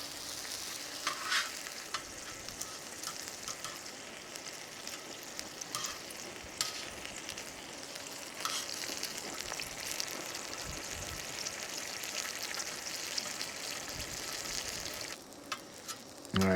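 Split longanisa sausage frying on a Skottle grill, a steady dense crackling sizzle that carries on without a break, close and moderately quiet with no talking.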